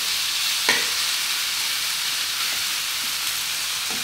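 Fish frying in a pan for an Andhra-style fish curry, giving a steady, close sizzle throughout with one brief clink near the start.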